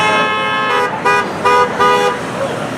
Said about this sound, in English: Love the honks.